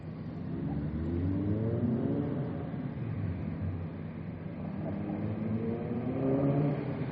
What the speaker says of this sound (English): they'll be loud as hell coming through here with these motorcycles